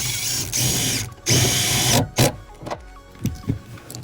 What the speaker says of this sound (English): reinstall the upper shock mount and use a 15mm bolt to tighten it